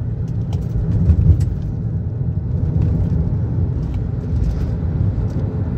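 A Toyota Sienta with a CVT gearbox accelerating in manual mode, its engine giving a steady low rumble heard from inside the car, swelling slightly and holding on without a break.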